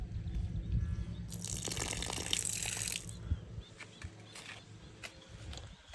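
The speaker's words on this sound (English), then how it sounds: "so this is the secondary drain that comes from the kitchen" Water gushing from a kitchen's secondary drain at a house under construction, a steady close splashing rush that swells for a couple of seconds and then drops back to a quieter trickle.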